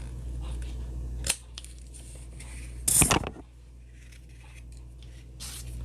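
Scissors snip through a ribbon bow on a rosette angel ornament, one soft early snip and then a sharper, louder cut near the middle, set in a quiet room with faint rustling.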